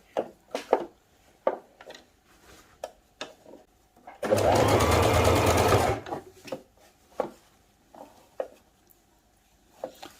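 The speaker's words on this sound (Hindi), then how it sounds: "तो मैं अब इसके ऊपर जो है सिलाई लगा लूँगी।" A sewing machine stitches over folded fabric piping on a capri trouser hem, running in one loud, steady burst of rapid stitching for about two seconds, framed by quiet handling taps and clicks before and after.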